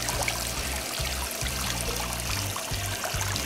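Water trickles steadily through a whimsical metal garden fountain, flowing down a spiral and a flute into a small spring basin set over river rock, a continuous close splashing stream with no voices.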